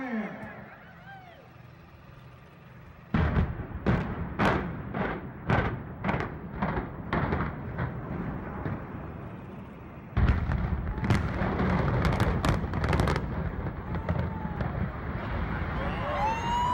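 A building demolition implosion, watched by a large crowd, sets off a rapid series of sharp explosive blasts followed by a heavy rumbling roar of collapse, with crowd noise and talk around it.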